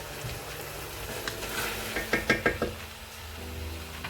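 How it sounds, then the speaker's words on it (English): A spoon knocks and scrapes around a pot of goulash with pepper paste, several quick rhythmic strokes clustered mid-clip over a soft background sizzle, close and clear with no talking. "Now I'm gonna give a good mix."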